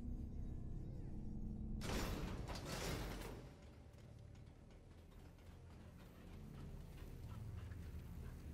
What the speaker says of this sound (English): The elevator next to him will take you to a hidden area.